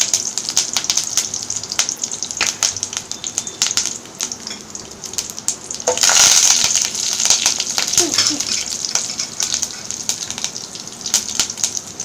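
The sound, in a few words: mustard seeds and urad dal popping in hot oil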